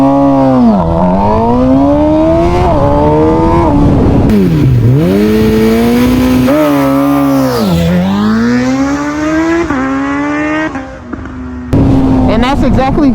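A motorcycle at a race start revs hard, its engine note rising and falling through repeated pitch sweeps, then climbing steadily as the bike launches; loud and close throughout, with a brief drop near the end before the engine roars again.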